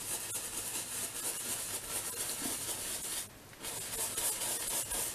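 Acrylic paint is rubbed onto a canvas to create mist, a soft continuous scrubbing hiss close by, with a brief pause near the end before the rubbing resumes.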